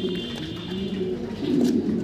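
Pigeons of a popular farm-bred breed, ring-tagged, coo in low, steady overlapping rolls throughout, fairly close and continuous against a faint background hiss.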